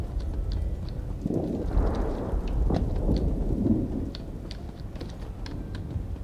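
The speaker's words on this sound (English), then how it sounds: "That sounds like a thunderstorm." Steady rain hiss with a couple of rumbling thunder rolls, and sharp patter-like clicks scattered throughout; a continuous stormy wash with no voices, from a thunderstorm in Morrowind Online.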